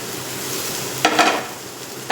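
Chopped tomatoes with ginger garlic paste sautéing in a pan for a prawn gravy, a quiet sizzle broken by a couple of sharp, close scraping stirs of the spatula.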